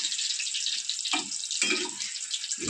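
Sweet potato chips frying in hot oil in a home kitchen, a continuous bright sizzle with bursts of bubbling, close and steady, no talk.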